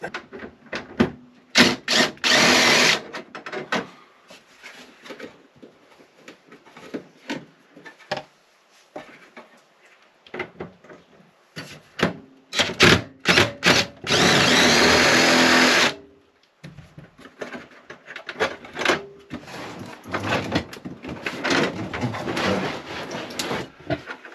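A power drill removing screws from the back of a Sharp RV microwave whirs in several short bursts and one longer run, separated by handling clatter and pauses, close to the microphone.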